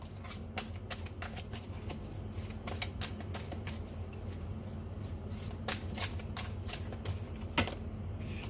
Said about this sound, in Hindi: थोड़े से और कार्ड्स निकाल देते हैं